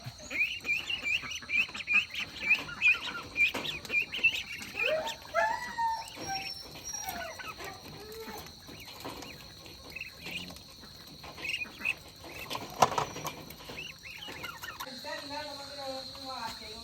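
Fed ducklings peep in rapid bursts, with scattered squawks and some farmyard clatter mixed in, fairly faint throughout.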